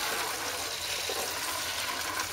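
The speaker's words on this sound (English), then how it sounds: "So we've given them a good watering from the top." Water pours steadily over freshly sown chickpea seeds in an allotment, a continuous close splashing and trickling wash with no breaks and no talking.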